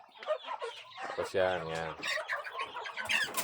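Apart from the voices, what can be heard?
chickens clucking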